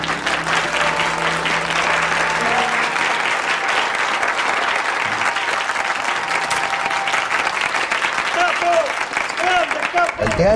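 An audience applauds steadily and fairly close in a theatre-like setting, the clapping sustained for about ten seconds with a voice briefly heard over it near the end.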